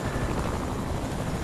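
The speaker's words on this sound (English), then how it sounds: "look, there's a chopper up there" A helicopter in the Fortnite video game flies overhead, its dense rotor roar filling the scene as a loud, constant wash of noise.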